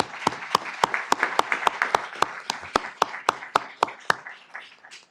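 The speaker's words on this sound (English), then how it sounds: "I think that deserves a round of applause also." A short round of applause at a city council session, with sharp separate claps from a small group that thin out and stop after about four seconds.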